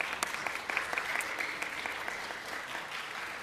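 An audience in a chapel claps in response to a lecturer's question, a brief burst of scattered hand claps with distinct sharp strikes early on that thins into softer, steadier clapping.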